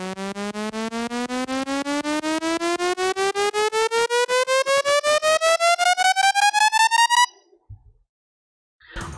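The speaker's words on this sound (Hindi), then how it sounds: "और इसके साथ हमने एक सिंथ का अपलिफ्टर भी ऐड किया है।" A rising synth uplifter made in FL Studio for a Bollywood future bass remix: a bright, buzzy pitched sweep pulsing in rapid even chops, climbing steadily for about seven seconds, then cutting off abruptly into near silence.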